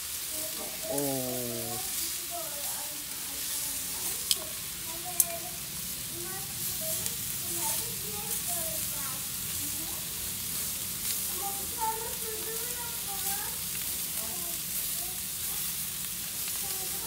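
Eggs fry on a hot stone set over a charcoal grill for an outdoor breakfast, giving a steady, close sizzle with scattered pops and a brief voice near the start.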